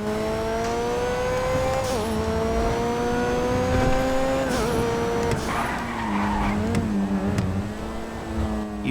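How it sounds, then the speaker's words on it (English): The Grotti Furia sports car in GTA Online screams at wide open throttle, a loud sustained engine wail that dips briefly at each gear shift, with tire squeal and skidding mixed in. "just listen to it wide open throttle"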